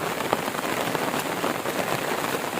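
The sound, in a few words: rain falling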